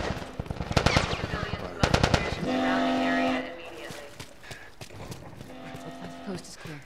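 Bursts of rapid gunfire against Firefly soldiers in The Last of Us Part II, two loud clusters of shots early on, then a sustained tone and scattered combat noise with voices speaking over it.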